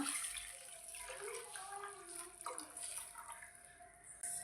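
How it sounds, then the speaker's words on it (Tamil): Tamarind water is poured into a pot of rasam with gentle splashing and gurgling, quiet and close, in a few uneven bursts. "இப்போது நம்ம கரைச்சி வச்சுருக்கிற புளி தண்ணியை சேர்த்துக்கலாம்"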